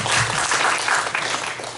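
Dense, steady applause from a seated audience at a Korean parents' seminar fills the short moment at a strong, even level.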